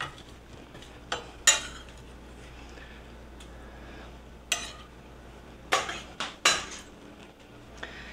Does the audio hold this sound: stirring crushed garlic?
yes